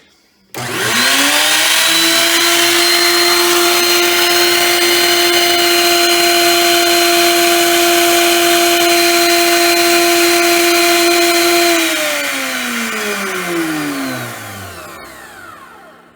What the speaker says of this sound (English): And there you have it, folks, a working router, albeit probably one of the cheaper ones.